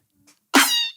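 A cat meow sample used as a snare hit in a song's bridge: one short, loud, bright burst with a squeaky, noisy tone, preceded by a faint tick, alone.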